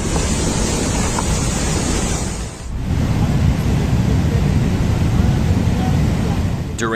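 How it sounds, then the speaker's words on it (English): Floodwater of the Parvati River in Kulu surges after a cloudburst, a loud, continuous broadband roar of rushing water that dips briefly near the middle before resuming at full force. "a cloudburst in the Parvati River in Kulu causes a dramatic surge in the water level"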